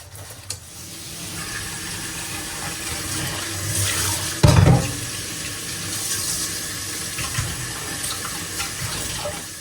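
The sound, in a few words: washing fish under running tap water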